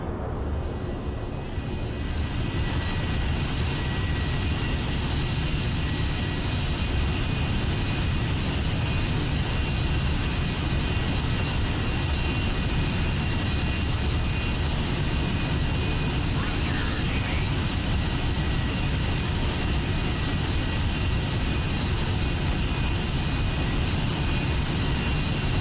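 F-18F jets roar steadily while launching from the pad in the naval combat game Sea Power, a broad, continuous engine rumble that stays loud and unbroken throughout.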